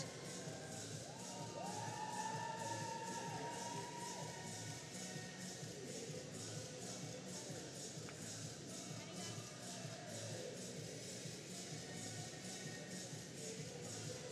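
Crowd at an artistic swimming World Cup duet event in Markham cheers and shouts steadily throughout, a dense, continuous roar of supporters with whistles and raised voices, no single voice standing out.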